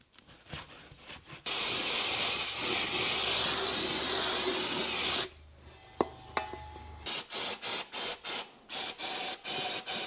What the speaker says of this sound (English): here we're just going to use some brake cleaner really